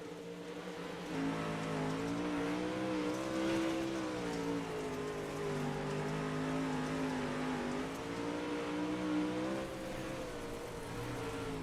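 A dirt track race car at Limaland races around the oval. Its engine drone holds steady, and the pitch swells and dips as it accelerates and backs off. It sounds moderately distant, with no talking.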